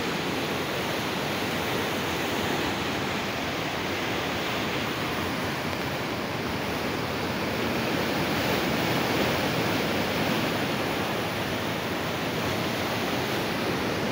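Steady, loud rush of water roaring without pause, a dense broadband wash of canal water pouring through headworks on the Sutlej, at high flow.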